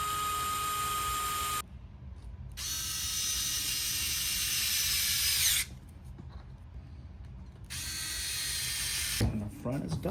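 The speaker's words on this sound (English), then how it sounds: "you put the two screws back on" Screws are driven into the bumper of a Traxxas Slash RC car converted to a VXL 4s rally build, with a buzzing power driver running in several close, steady spurts separated by short pauses.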